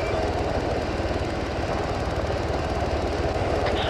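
Medevac helicopter arriving in the military game Arma, a steady, loud rotor and engine drone with a regular low chop that fills the whole stretch, with no talk over it.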